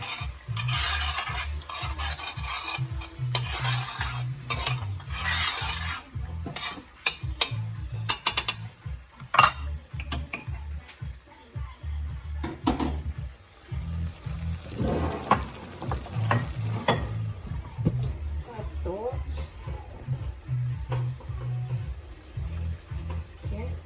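Tomatoes being stirred into a crab curry frying in a pan, a steady sizzle with scraping and clinking spoon strokes throughout, close up, without talking.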